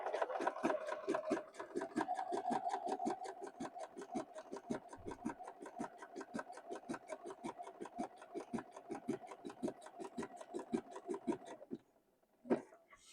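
A sewing machine runs a blanket stitch at a slow, even pace, giving a rapid rhythmic chatter of needle strokes that runs about twelve seconds, stops briefly, then gives one more short burst.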